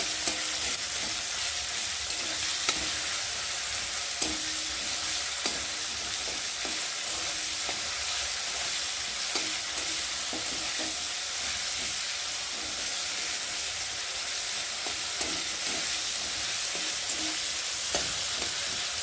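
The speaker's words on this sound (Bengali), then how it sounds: "টমেটোটা একটু ভালো করে ভেজে নেব।" Tomato fries in a pan with a steady, even sizzle that runs throughout, and occasional soft clicks of stirring break through.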